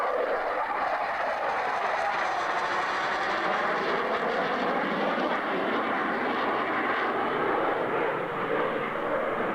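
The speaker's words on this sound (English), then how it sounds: "Is that a Phantom I see before me? An RAF Phantom at that." An RAF Phantom jet flies past at the 1992 Lakenheath Airshow, a continuous broad roaring engine rumble that swells gently and holds steady throughout, heard from a distance with no voices.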